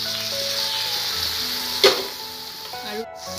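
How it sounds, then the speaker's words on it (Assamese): Water is poured into a hot pan of frying bottle gourd shoots, and a sudden loud hiss rises over the steady sizzle before it quickly settles. Faint background music plays. "এতিয়া মই ইয়াতে এবাটি পানী দি দিছোঁ।"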